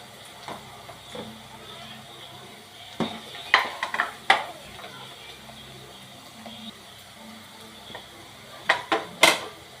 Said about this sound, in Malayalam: നമുക്ക് ഇപ്പം ഉള്ളി കുറച്ച് ഇതായി മൂത്തിട്ടുണ്ട്